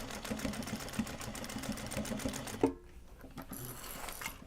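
A sewing machine stitches a Japanese fabric bag with a fast, steady close-up whir of needle strokes that stops abruptly, followed by a quieter handling clunk and faint rustling.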